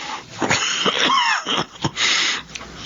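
Several harsh, raspy coughs from a sick person with a fever, in quick succession, close and fairly loud, with throaty wheezing breaths between them.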